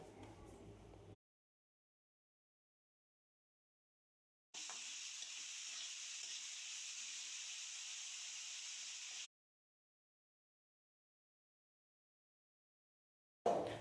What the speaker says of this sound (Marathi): आता यामध्ये चिरलेला टमॅटो टाकायचा आहे टमॅटो हे एक मिनिटभर परतून घ्यायचा